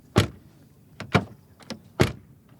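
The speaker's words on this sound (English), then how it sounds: "but what about the door closing sound?" Porsche 911 (992) door being shut, heard as three separate solid thumps spaced about a second apart, fairly near and clear with no talking.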